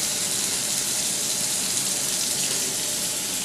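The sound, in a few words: tap water running over makeup brush while scrubbing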